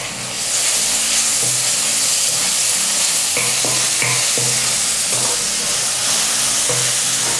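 Chopped tomatoes and onions frying in a pan for masala rice, a loud continuous hissing sizzle with occasional soft scrapes of stirring.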